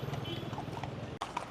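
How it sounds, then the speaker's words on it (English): Horse-drawn carriage hooves clip-clopping in a steady trotting rhythm on a Marrakesh street, close and clear amid city background noise, with a brief dropout near the end. "I'm on this horse carriage"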